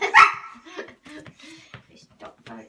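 Pet dog barking indoors during obedience training: one sharp, close bark at the start, followed by quieter talking.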